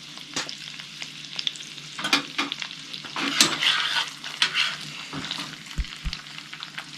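Lobster pieces fry in butter in a pan and are swirled around, giving a close, crackling sizzle with bursts of spatter and scraping stirring.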